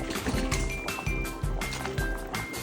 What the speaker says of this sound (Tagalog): Kumukulo na siya.